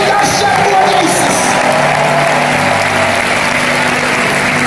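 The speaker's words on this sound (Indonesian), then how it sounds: "Kasih sorak-sorai paling dahsyat buat Yesus." A church congregation cheers and shouts praise for Jesus at a worship service. The roar of the crowd stays steady and dense throughout, with scattered whoops and clapping, and a voice speaking over it.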